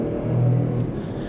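A 2023 Ford F-150 Tremor V8 pickup accelerates with a low, steady engine rumble that swells slightly and holds, heard from inside the cab, loud and continuous without voices.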